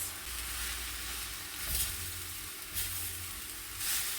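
Noodles are folded into vegetables with shrunken mushrooms and red cabbage in a hot stir-fry pan for a beef noodle dish, giving a steady close sizzle and hiss with a few soft stirring scrapes and no talk.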